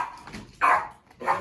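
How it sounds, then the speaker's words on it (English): A dog gives two short, sharp barks close by indoors, a brief pause separating them. "my dog is barking"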